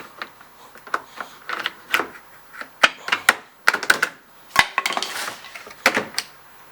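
A side panel of a BMW E36 bumper being pried off, a close series of sharp plastic clicks, snaps and creaks in irregular bursts with quiet gaps between, no talking.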